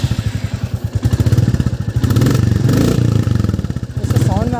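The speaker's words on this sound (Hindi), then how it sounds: "अब इसका मैं आपको एग्जॉस्ट साउंड सुनाता हूँ एक बारी।" A 2024 Royal Enfield Bullet 350 motorcycle exhaust heard up close, a loud, evenly spaced thumping beat that rises briefly with a throttle blip before settling back.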